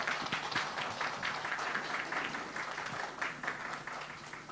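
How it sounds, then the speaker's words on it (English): Lecture audience applauding a visiting speaker, a dense patter of many hands clapping steadily for a few seconds at moderate distance, fading slightly toward the end. "a round of applause for Dr. Israel."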